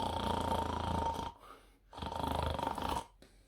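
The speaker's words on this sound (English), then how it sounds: "The elephant was snoring loudly." An elephant snores loudly in a cartoon story, two long rasping snore breaths with a short pause between them, close and alone.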